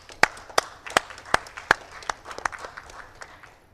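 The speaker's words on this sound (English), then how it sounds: "Let's give a round of applause for Daniel." Sparse hand claps from a small conference audience, a handful of sharp, separate claps that thin out and fade over a few seconds without cheering.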